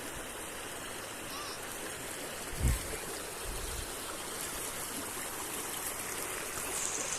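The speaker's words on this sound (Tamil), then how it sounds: "இதுதான் பெரும்பள்ளத்தினுடைய ஓடை." Steady broadband rush of water flowing along the Perumpallam stream outdoors, continuous and fairly even throughout, with one brief louder splash or thump near the middle.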